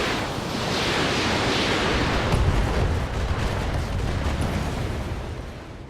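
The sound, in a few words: BattleTech mech firing full weapons, video game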